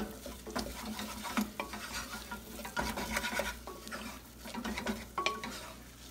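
Flour for a mac and cheese sauce cooks in a hot pan while a utensil stirs and scrapes it: repeated close scraping strokes and light clinks over a soft, steady sizzle, with no talking.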